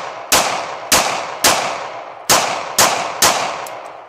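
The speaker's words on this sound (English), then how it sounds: "Alright, 7 more rounds with the new LCP Custom, all tool ammo. Going for them." Six sharp shots from a Ruger LCP Custom pistol fired at an uneven pace, each crack loud and close with a brief ringing decay, no talking between them.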